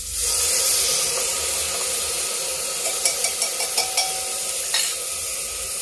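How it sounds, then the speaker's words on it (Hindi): Uncooked rice goes into a pot for a carrot-and-pea tahri, with a steady loud sizzle of frying throughout and a quick run of sharp spoon clinks from stirring near the middle and end. "अब डालते हैं इसमें चावल।"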